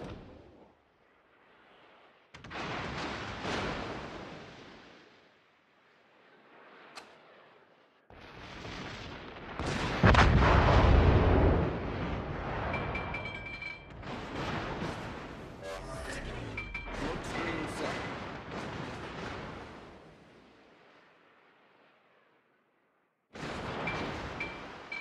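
The Harugumo destroyer in World of Warships fires its naval guns in bursts of booming, cracking salvos separated by short quiet gaps, with one especially heavy blast in the middle, loud and close.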